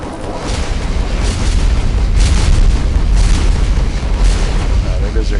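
A massive explosion as an enemy carrier is destroyed by a torpedo hit in the space combat game Starfarer, a loud sustained boom and rumble that fills the clip with crackling debris bursts.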